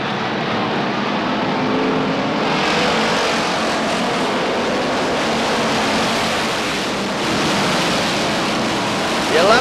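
Stock cars roar through a turn two abreast at Beech Ridge Motor Speedway, a steady, dense engine drone heard from trackside that swells slightly midway, with no distinct voices over it.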